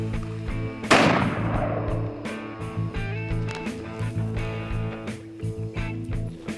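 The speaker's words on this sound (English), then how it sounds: "So let's take a shot at the watermelon and let's see what happens." A single sharp gunshot is fired at a watermelon outdoors, a loud close crack followed by a fading rumble and low background hum.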